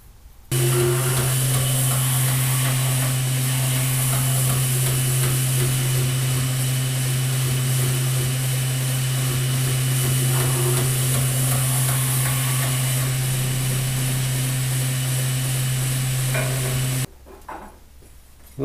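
Belt grinder finishing the bevels on two heat-treated knife blades, working through grits up to 320: a loud, steady motor drone with a strong low hum and a bright hiss above it, running continuously almost to the end before cutting off.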